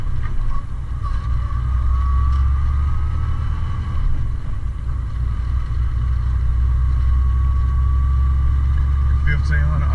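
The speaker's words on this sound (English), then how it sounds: "See how the truck sound?" A semi truck's diesel engine drones heavily from inside the cab while the driver float shifts at about 1500 RPM without the clutch, a loud, steady low rumble that holds through the whole stretch.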